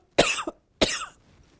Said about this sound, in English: Excuse me, I'm just going to cough.